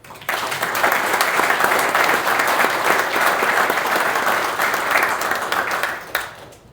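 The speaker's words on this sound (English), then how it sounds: "A round of applause to the 9th Airlift Squadron." Sustained applause from a roomful of people at a military retirement ceremony, honoring the 9th Airlift Squadron; dense, steady clapping for about six seconds before it tapers off.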